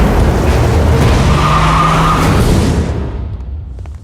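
A car skids and screeches off at speed in a movie scene. Loud tire squeal and engine roar last about three seconds, then fade quickly into quiet.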